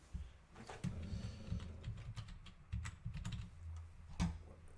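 Someone types on a computer keyboard that sits a little out of reach during a home automation software demo, producing quiet, irregular clusters of key clicks and thumps, close by and with no talk over them.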